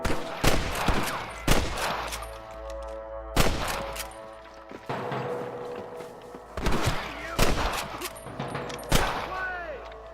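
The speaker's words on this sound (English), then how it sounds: "I can hear more gunshots." Sharp bursts of gunfire in the video game Red Dead Redemption crack out in several separate volleys, loud and close, with shorter single shots between them and background rumble.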